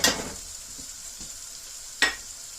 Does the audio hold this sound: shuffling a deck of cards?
no